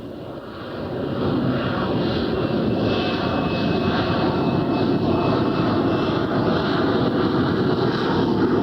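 A Harrier jump jet attack plane's engine roars steadily, a loud, broad rumble with a whining tone that swells in over the first second and then holds constant.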